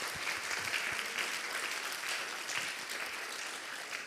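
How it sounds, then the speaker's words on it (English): A conference auditorium full of people applauds steadily after a talk at PyCon Greece 2025, a dense, even patter of clapping that holds at a constant level throughout without any voices standing out. "Let's give another round of applause for her awesome talk."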